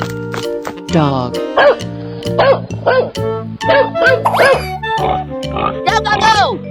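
Short cartoon dog barks and yips from a 3D animal sliding game pop out repeatedly over cheerful, continuous game music.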